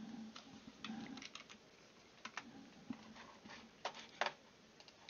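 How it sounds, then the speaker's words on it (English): Close, fairly quiet clatter of computer keyboard typing, with irregular bursts of keystrokes and short pauses, a few sharper key hits standing out near the end; no talking. "Let's type that in again."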